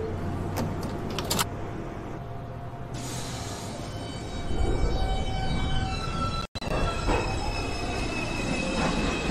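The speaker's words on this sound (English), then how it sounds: "This is a Brooklyn College Flatbush Avenue bound 2 express train." NYC subway 2 express train at an elevated station, with loud steady rumbling of wheels on rails, metallic squeals and clanks, and a sudden brief cutout midway.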